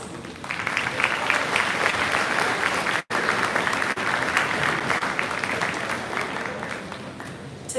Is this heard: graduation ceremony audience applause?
yes